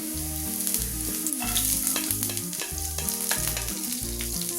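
Chopped garlic frying in hot sunflower oil in a pan, a steady close sizzle with light crackling under a looping instrumental music track, nobody speaking.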